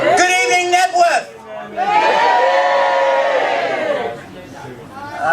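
A comedy-show audience at a boys' club cheers and roars as a pretend Knebworth crowd, a loud sustained burst of many voices following a shouted greeting from the stage.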